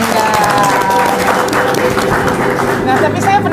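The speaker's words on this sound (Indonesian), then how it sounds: "Tepuk tangan dulu dong buat Ibu Pangdam" Loud crowd applause for Ibu Pangdam at a farewell gathering for Major General Syafrial in Maluku, brisk clapping rolling on steadily with voices and some tonal sound mixed in.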